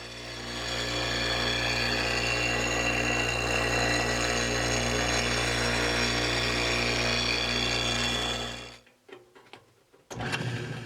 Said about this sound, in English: I'll sharpen my bowl gouge with my homemade sharpening jig